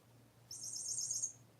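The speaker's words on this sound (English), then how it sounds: "It's a toy cricket" A cat's toy cricket gives a single high, bright chirping trill lasting under a second, fairly close and moderately loud over a quiet low hum.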